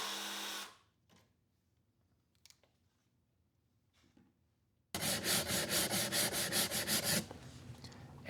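Rhythmic back-and-forth sanding rasps along the cut edges of a wooden router template, about a dozen quick strokes after a long quiet pause, close and fairly loud.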